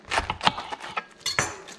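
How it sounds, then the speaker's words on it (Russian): A knife cuts cabbage into thin strips for Ukrainian chicken borscht, making a series of close, crisp, irregular chops and clicks against a board with brief pauses between strokes. "Теперь нам нужно с вами нарезать капусту соломкой"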